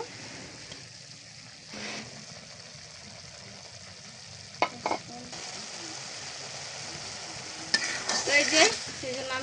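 A spiced potato mixture sizzles softly in a frying pan, a low steady hiss with a few louder scraping stirs and splashy bursts near the end, fairly faint and without talk.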